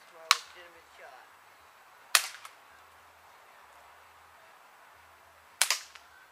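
Gunshots fired outdoors at a grill: three sharp, loud cracks spaced a couple of seconds apart, each with a short ringing tail, and quiet stretches between.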